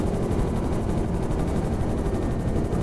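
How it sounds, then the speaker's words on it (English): A looping helicopter sound effect, drenched in reverb to feel far off, gives a constant broadband whoosh with a fast, even rotor pulse throughout. "I then imported the overall helicopter sound into Wwise, enabling it to loop infinitely"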